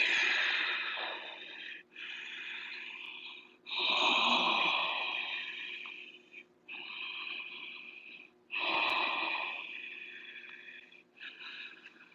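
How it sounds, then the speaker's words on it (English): Ujjayi breathing during a yoga session while holding a warrior two stance: slow, hissing, ocean-like breaths drawn through a constricted throat, several long inhales and exhales in steady alternation, close and clear with no talking. "I'm going to do one more of my ujjayi breath."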